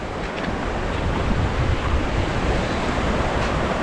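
Small waves wash ashore at Earl Lifshey Ocean Park, a South Florida beach with clear, chilly water. The sound is a steady, close, broadband rush of surf mixed with wind noise, with no distinct breaks and no voices.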